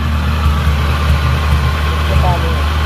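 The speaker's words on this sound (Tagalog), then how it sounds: "Kumi-start si makina." A car engine idles while its voltage regulator or alternator is checked for a fault, giving a loud, steady, low droning hum with no change in speed.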